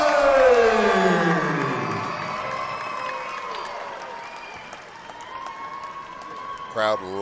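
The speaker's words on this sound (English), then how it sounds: "Crowd loving it tonight." Crowd at a Delta Fighting Championship bout cheering and clapping steadily as the winner is announced, a loud broad roar that slowly fades, with an announcer talking over it.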